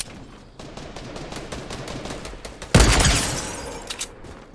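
Sniper rifle fire in Fortnite: a single sharp, loud crack with a long decaying tail, following a stretch of steady rapid game noise.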